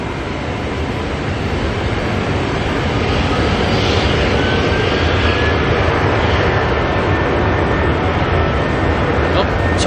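A Jetstar airliner lines up for departure at Auckland Airport, its engines giving a broad, steady roar that builds slightly over several seconds, heard from a distance with a person talking over it.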